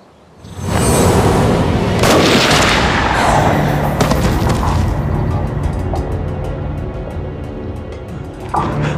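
A pistol fires during a roulette game in a kung fu action scene: a sharp loud crack bursts in after a quiet start, followed by a long rumbling boom and echo that slowly fade, with a faint clatter at the end.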